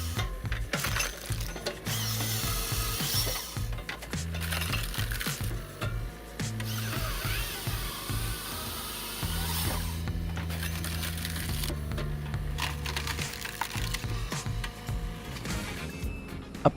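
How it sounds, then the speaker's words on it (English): A Hahn HFP 160 firewood processing machine works through large logs with a continuous loud mechanical clatter, grinding and rattling, punctuated by droning hydraulic-like tones that shift pitch in steps. "The advanced Hahn HFP 160 firewood processing machine can process large logs with high throughput"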